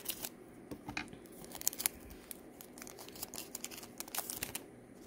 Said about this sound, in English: I might have to use my scissors for the rest of these.